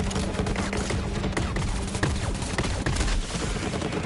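Rapid gunfire in a video game battle, dense bursts of overlapping shots and clattering impacts with the game's music underneath, loud and continuous with no talking.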